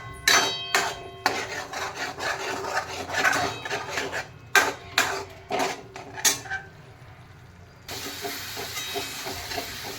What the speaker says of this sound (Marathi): काळा मसाला जो आहे तो व्यवस्थित आपल्याला भाजून घ्यायचा आहे.